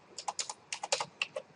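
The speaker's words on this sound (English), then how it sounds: "I'm typing title layout." Quick bursts of keystrokes on a computer keyboard, about a dozen crisp clicks in uneven clusters, close and fairly quiet, with no talking.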